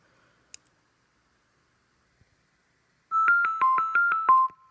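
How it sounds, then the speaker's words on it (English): Short chiming ringtone of about six quick rhythmic tones from a TWS ADK4p0 wireless speaker, clear and close after a quiet pause with a faint click. "you should hear the Twilight ringtone"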